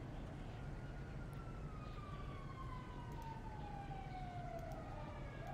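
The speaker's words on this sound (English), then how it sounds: "Every time I hear sirens, I'm just thinking, oh, here they come." A distant siren wails steadily with a slowly falling pitch over constant road rumble, no voices.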